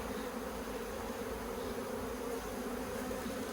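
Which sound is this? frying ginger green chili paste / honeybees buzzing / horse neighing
honeybees buzzing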